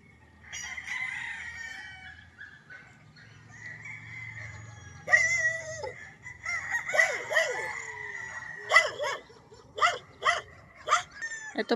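Several dogs bark in short repeated bursts on a farm, growing busier toward the end, while a rooster crows earlier on.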